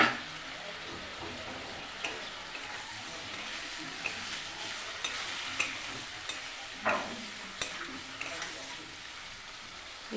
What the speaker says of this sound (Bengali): এবার ভালো করে আমি কষিয়ে নেব।